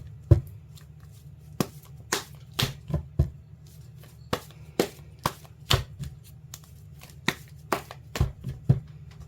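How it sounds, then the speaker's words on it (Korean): Tarot-style fortune-telling cards being shuffled by hand close up, with a series of crisp riffling snaps and taps at irregular intervals against a quiet room hum. "제가 카드로 한번 뽑아볼게요."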